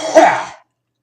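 A single forceful cough, close and loud, one harsh burst that cuts off abruptly into silence.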